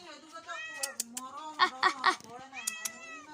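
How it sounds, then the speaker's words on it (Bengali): A village cat meows several times in short, rising calls, close and fairly quiet, with a few sharper cries clustered in the middle. "এখানে আমাদের গ্রামের বিড়াল"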